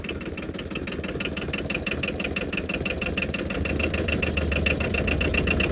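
A diesel quad engine idling very low, a close, rapid, even knocking chug that stays steady throughout and grows slightly louder toward the end.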